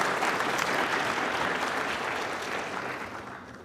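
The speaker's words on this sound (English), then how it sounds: "round of applause just the same" A round of applause from an audience at an engineering awards ceremony, moderately distant and steady, gradually tapering off toward the end.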